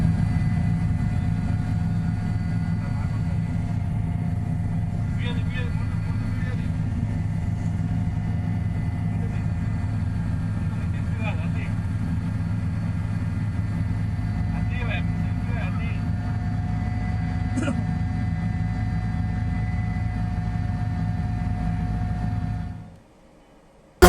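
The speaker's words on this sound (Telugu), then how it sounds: "మన ప్రత్యక్షంగా హెలికాప్టర్ లో వెళ్తూ కూడా దీనైతే ఎంజాయ్ చేస్తున్నటువంటి పరిస్థితి కనిపిస్తుంది" Helicopter cabin on a pilgrim flight from Hanamkonda to Medaram: a loud, steady low rotor and engine drone fills the ride from start to finish, then cuts off abruptly.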